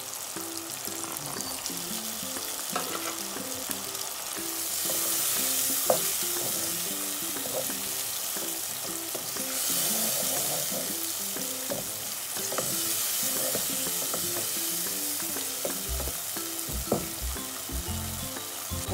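Tomatoes sizzle steadily in a pan with ginger paste for a fish and pea curry, a continuous close frying hiss broken by scattered stirring scrapes and clinks, with no voices.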